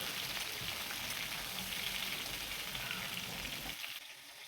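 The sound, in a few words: pointed gourd frying in oil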